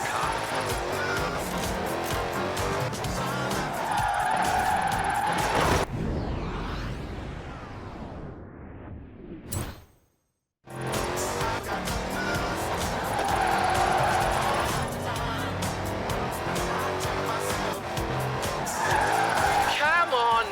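Tyres squeal and skid as a car drifts through turns in Forza Horizon 4, engine roaring loud and steady, with a brief quiet gap midway before the sliding resumes, voice talk running underneath.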